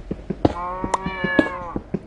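A Minecraft cat lets out one drawn-out, close meow amid a string of sharp rhythmic clicks and taps, fairly loud, with no talking.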